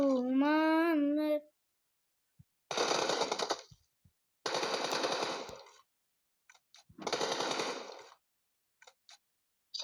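Automatic gunfire in a PlayStation shooter, three separate loud bursts of rapid fire with short pauses between them, preceded by a brief burst of high-pitched voice.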